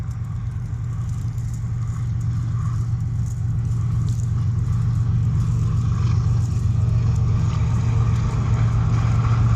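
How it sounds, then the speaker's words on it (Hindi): A freight train hauled by a GE40 locomotive passes Mando Dairo railway station near Rohri, producing a steady, loud low rumble that holds throughout and swells slightly as it goes by. "super parcel train, super parcel freight train पास हो रही है मंडोडेरो रेलवे स्टेशन से"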